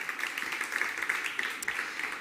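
Audience applause at a startup conference stage session, a steady dense patter of clapping from a crowd filling the room at moderate level, with no pauses throughout.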